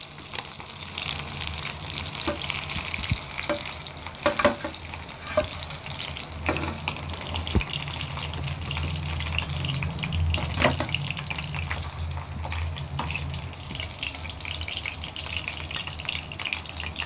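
Fish frying in a pan with oil, giving a steady, close, continuous sizzle with occasional sharper crackles and pops and no talking.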